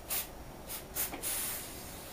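Several short hissing bursts of spray cleaner aimed at a 2-cycle carburetor, heard close up in quick puffs with brief pauses between them and no talking.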